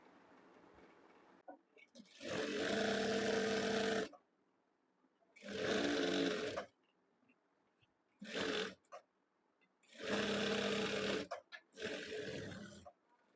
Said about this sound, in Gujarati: હવે આ લાઈન ડ્રો કરી છે તેની ઉપર આપણે સિલાઈ લગાડવાની છે.